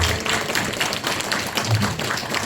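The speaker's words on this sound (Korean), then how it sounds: "힘내라고 박수 한 번 더 쳐드릴까요?" Audience clapping at a redevelopment briefing session, a busy, fairly close patter of many hands that stays even and roomy throughout, with no speech on top.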